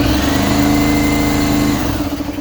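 An air compressor for auto detailing switches on by remote control and runs as a loud, steady motor hum close by, holding level before easing slightly at the end, with no talking.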